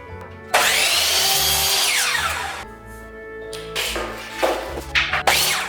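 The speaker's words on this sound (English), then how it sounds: "we need to cut each board at 90 inches to account for the slope" A power saw cuts wooden boards for a teepee-style Christmas tree frame with a hidden fort: one long, loud rising-and-falling whine of the blade through wood, then several shorter cutting bursts close to the microphone.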